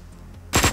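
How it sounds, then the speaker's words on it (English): A shotgun fires in Hotline Miami 2, a single loud, sharp blast that bursts in suddenly after a low murmur and decays quickly over a fraction of a second. "shotgun"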